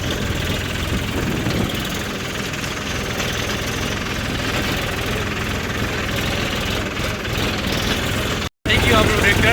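A tractor engine idles steadily close by, a continuous mid-low rumble with some vibration, briefly cut out near the end before resuming, with a voice speaking over it.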